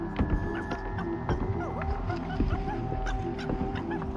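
A dog whimpering and yipping in the video game Happy Game, repeated high whines and short yelps over a humming, throbbing background score, fairly loud and continuous.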